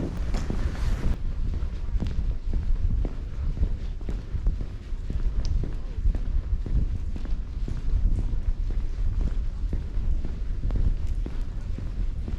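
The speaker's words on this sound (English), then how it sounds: "wind's really ripping through it." Strong cold wind ripping through a tunnel on a Derbyshire Dales walk, a loud, steady roar and buffeting against the microphone with faint thuds that may be footsteps throughout, no talk.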